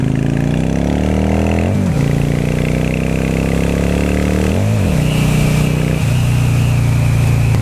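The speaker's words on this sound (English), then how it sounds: "For a 650, I mean, really for any size engine, this bike sounds great." A 650 bobber motorcycle engine revs loudly up close, climbing through a few surging rises with brief dips between throttle blips, steady and unbroken throughout.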